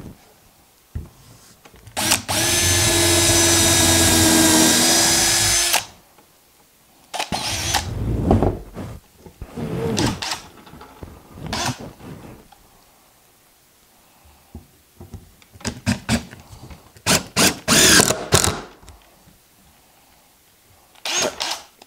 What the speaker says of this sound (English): Drill the hole first and then let's drive a screw.